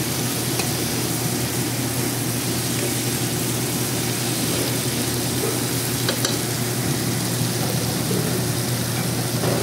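Squid adobo is stirred in a hot pan: loud, continuous sizzling and frying with scraping stir strokes throughout, close and without talk.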